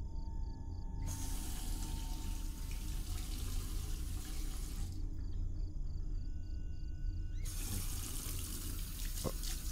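Water running from a tap in a horror video game, a steady hiss of flowing water that starts and stops twice, with faint mechanical creaks between runs, quiet and without speech.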